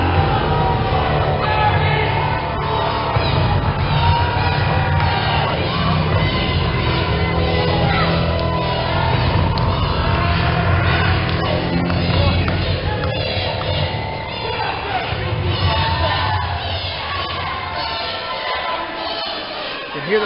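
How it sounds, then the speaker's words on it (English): A wrestling crowd at a tag team title match shouts and chants loudly throughout, an energetic roar of many voices. "You hear the crowd chanting PT, PT for Princeton Travis."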